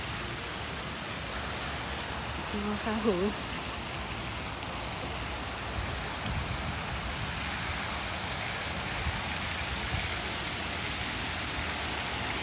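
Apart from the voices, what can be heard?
waterfall at a temple garden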